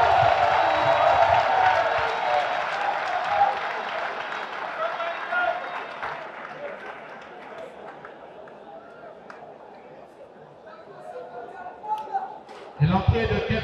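Audience applause greeting the entrance of the president of the National Assembly at a Congolese political rally, dense clapping and crowd noise that fades gradually, with a renewed burst at the end.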